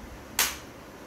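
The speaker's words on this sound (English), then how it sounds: "Now change exercise with clapping" A single sharp hand clap during a children's fitness exercise session, one crisp close slap standing alone against a quiet background.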